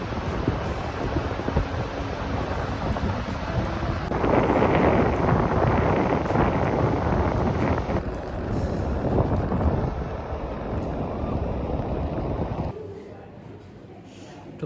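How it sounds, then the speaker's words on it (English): Strong wind buffets the microphone on a huge beach near large shipping containers, a loud, rushing roar that swells and eases, with people talking now and then. "It's windy."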